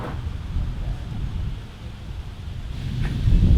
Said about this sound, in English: God, it's windy.